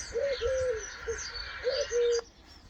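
A wood pigeon coos in a garden, a clear run of soft hooting calls in two phrases with a short pause between, close and distinct over quiet background birdsong.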